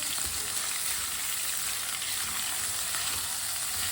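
Spaghetti sauce sizzling in a pan while a spoon stirs it, a continuous close hiss and crackle with faint scraping under it and no voices.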